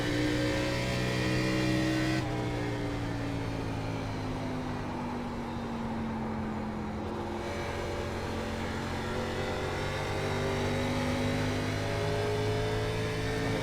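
A NASCAR truck engine roars steadily through laps in the iRacing sim, a continuous whining drone whose pitch rises and falls gently with throttle and shifts, heard up close with no talk.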